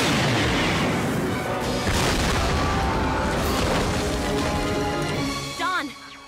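Several explosions in the 2003 TMNT cartoon roar as a dense, continuous rumble of booms and crashing debris, loud and layered, with a falling whistling tone near the end.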